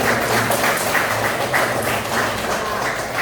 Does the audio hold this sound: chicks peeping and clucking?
no